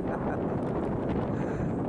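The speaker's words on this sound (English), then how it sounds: "it's so windy" Strong shoreline wind buffets the microphone in a continuous loud roar, with no pauses or other clear sounds.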